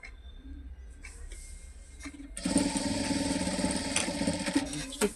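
A domestic sewing machine runs in a steady whirring burst, stitching along a marked line on a four-cut handbag, starting after a couple of seconds of quiet handling and continuing loud and close.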